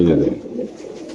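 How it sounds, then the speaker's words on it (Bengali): Teddy pigeons at a pigeon market give a short, low, throaty coo up close, a single rolling call that fades within about a second, with people talking in the background. "এক জোড়া টেডি কবুতর"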